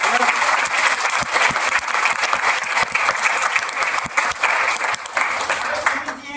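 An audience at a business meeting breaks into loud, sustained applause, a dense crowd of clapping hands that rolls on for several seconds with a voice faintly present underneath.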